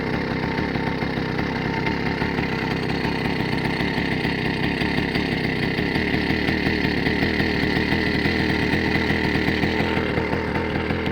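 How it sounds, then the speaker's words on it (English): A small motorized bicycle engine idles steadily after the choke lever is pushed down, a loud, close, fast buzzing putter with an even rhythm that carries on alone for the whole stretch. "it might idle a little high at first, but then it'll balance out as the bike warms up"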